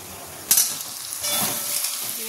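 Oil sizzles steadily in a pan as eggs fry for egg curry, a sharp clatter of stirring near the start, then the hissing fry continues close and fairly loud.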